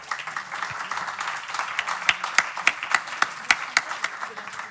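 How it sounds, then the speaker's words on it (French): Modest audience applause for three panelists at a French conference on the European ecological transition, scattered distinct claps growing sharper and more separated as it thins out. "Je vous invite à m'accompagner pour applaudir du coup nos 3 panélistes."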